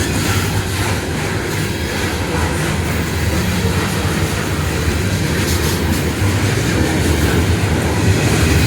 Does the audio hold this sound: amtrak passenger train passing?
yes